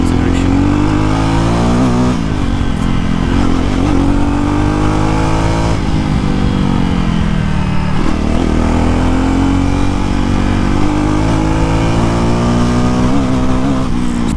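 A BS6 Jawa motorcycle accelerates hard during a test ride, its engine note climbing through the gears in repeated rising sweeps, loud and close, mixed with wind rush.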